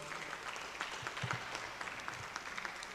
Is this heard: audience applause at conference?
yes